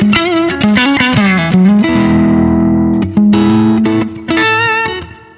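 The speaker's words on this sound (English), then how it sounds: "I can make it more compressed." An electric guitar plays through a Zoom MS-100BT multi-effects pedal with the compressor set stronger, producing quick picked phrases and sustained, evenly squeezed chords up close and alone.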